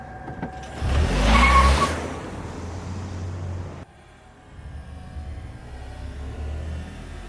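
A 2023 Toyota Sienna minivan in sport mode revs up loudly for a couple of seconds, then drops to a steady lower hum as it keeps moving.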